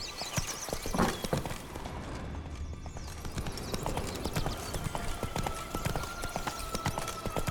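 Horse hooves clip-clopping at a steady pace in The Witcher 3 video game, continuous rhythmic footfalls mixed with game ambience and a brief whinny-like sound.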